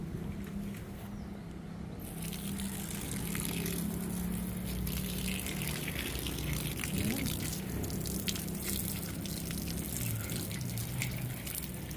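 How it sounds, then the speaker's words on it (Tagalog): Water running steadily from an opened tap, a continuous splashing rush that fills the scene, with people talking faintly underneath. "Buksan mo gripo."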